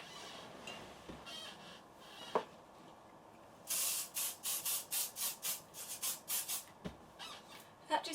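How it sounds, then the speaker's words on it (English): Hairspray misting over freshly curled hair: after a few quiet rustles and taps, a run of about nine short, sharp aerosol bursts in quick rhythm, close by, with no voice. "I'll just go over it lastly with the hairspray"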